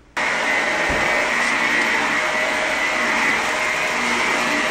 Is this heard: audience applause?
no